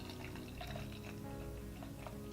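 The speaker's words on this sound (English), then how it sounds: "Let's pour it up into my Collective Arts Spigaloo glass." Industrial IPA from Lock Street Brewing pours from a can into a glass, a steady close liquid gush with fizzing and splashing throughout.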